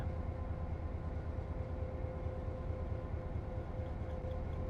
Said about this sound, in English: Oh no, there's a train here.